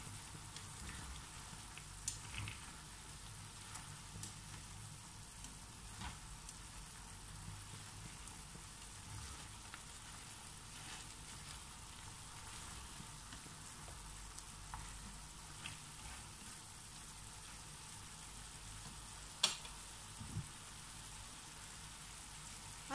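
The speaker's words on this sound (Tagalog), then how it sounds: "saka po muli natin ito haluin" Pork belly simmers in sauce in a pan, a quiet, steady sizzle and bubbling with occasional soft scrapes and clinks from stirring, heard alone without voices.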